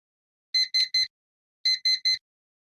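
An electronic buzzer on a hackathon project sounds in two identical bursts of three short, sharp, evenly spaced beeps separated by a brief pause, loud and close with no other sound.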